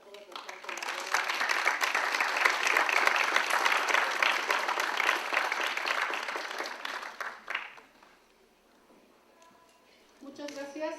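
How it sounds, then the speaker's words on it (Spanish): Audience applause at an academic lecture event on complex systems, a dense burst of clapping that fills the room for about seven seconds, then fades out before talk resumes. "que les demos un aplauso a todos los que han colaborado"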